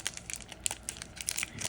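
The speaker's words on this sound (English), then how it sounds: "we'll get the pack open" A trading card pack's foil wrapper being torn open by hand, a quick close run of crinkling and ripping crackles lasting under two seconds with no talking.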